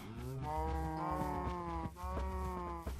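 Cows in the Minecraft video game moo in a steady series of drawn-out, tonal lowing calls, clear and prominent with brief pauses between them and no speech over them.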